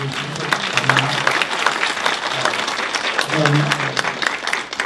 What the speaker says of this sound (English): Just a quick round of applause for these people.